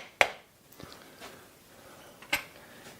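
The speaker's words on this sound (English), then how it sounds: "just give it a little tap with the wooden end of your hammer" Two sharp taps from the wooden end of a hammer on a Watersnake DR model bow-mount electric motor during a speed control unit repair, one just after the start and another near the end, with faint knocks between.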